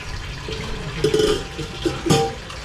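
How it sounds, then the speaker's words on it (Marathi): Tap water runs on a farm, a steady splashing wash under intermittent clatter and a few louder bumps, close by. "हे नाही का पाणी चालू आहे"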